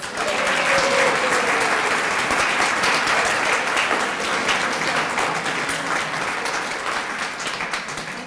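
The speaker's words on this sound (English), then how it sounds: "can we please give her a round of applause?" Sustained audience applause for a woman being honoured, many hands clapping in a dense, even roar that holds steady for the full stretch and tapers only slightly at the close.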